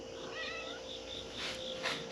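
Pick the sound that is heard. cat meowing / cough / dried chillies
cat meowing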